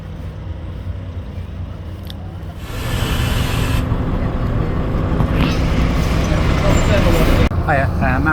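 A local bus rumbles along a road with passing traffic, the engine and road noise growing louder partway through, with voices talking over it.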